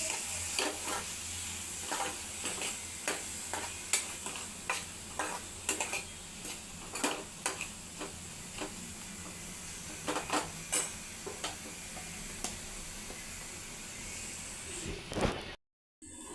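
Spices such as turmeric being stirred into potatoes frying in oil, a steady close sizzle with repeated scraping ticks of the spoon against the pan.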